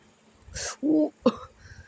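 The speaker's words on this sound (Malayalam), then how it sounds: "ചുമയുണ്ട് ഗൈസ്, ചുമ" A few close, harsh coughs in quick succession, loud against a quiet room.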